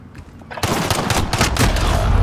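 Rapid gunshots crack in a fast, loud burst of overlapping reports, starting abruptly after a quiet moment and continuing without a break to the end, with no talking over them.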